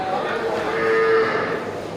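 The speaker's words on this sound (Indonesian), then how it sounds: "ini untuk sapi besar ya" Large cattle at a livestock market give a sustained, fairly close moo that swells and fades over about two seconds against a busy market background, with no talk.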